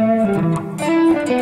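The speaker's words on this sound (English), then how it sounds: "now we're going to drop down and play the bluesy part of the solo" A short bluesy lead phrase on electric guitar, a few bent, sustained notes played close and clear with no voices.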